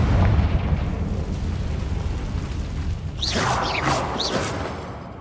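The Confringo blasting spell from the video game Hogwarts Legacy goes off as a loud, rumbling explosion, followed by a few sharp whooshing bursts and a fading roar.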